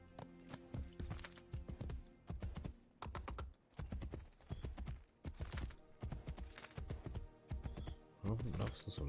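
Horse hooves clip-clop steadily in the video game Assassin's Creed Brotherhood, a rhythmic run of close, loud hoofbeats over game music and noise, with someone talking over it.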